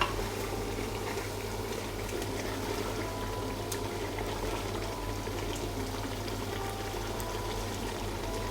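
Gosht handi sauce simmers in a pot, a steady soft bubbling and sizzling texture throughout, fairly quiet with no voices.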